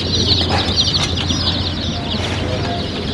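Young chicks in a farm-store brooder at a Tractor Supply shop, peeping and chirping continuously in a busy chorus over a low background hum.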